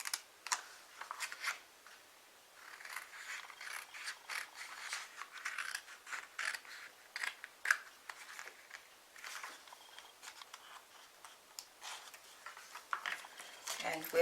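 Scissors snip through card stock for a paper craft in quick, faint, repeated cuts with light paper rustling, heard close and quiet throughout.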